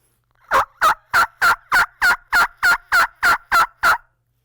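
A turkey call imitating a wild turkey hen's yelp: twelve evenly spaced, loud, raspy yelps in a steady rhythm, close and alone with no talk.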